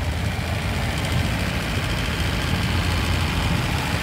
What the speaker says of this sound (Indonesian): Suaranya mesin halus banget nih.